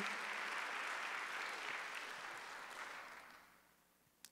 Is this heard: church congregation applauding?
yes